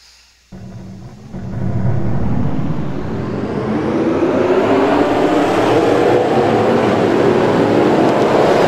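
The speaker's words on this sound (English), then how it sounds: "Drivers, start your engines! And the engines has been fired here from round number 13 at Washington." Field of stock cars starting their engines at Washington in the NASCAR Racing 2003 game, a quiet moment giving way to a loud, building roar of many engines revving together and sustained to the end.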